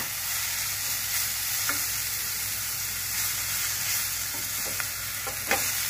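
Coriander leaves being stirred in a frying pan while cooking radish chhechki, a steady close sizzle with a few soft scraping strokes of the spoon, no talk.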